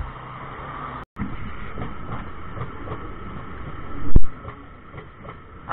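A train rolls past at a railway crossing in India, a steady rumbling clatter of wagons for several seconds with one louder thump near the end, heard from close by.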